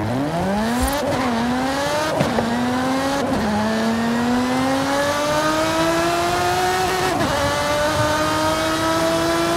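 A video game race car engine, sounding like a Formula 1 V10, whines as it accelerates, its pitch climbing and then dropping sharply with each of several gear shifts, loud and continuous.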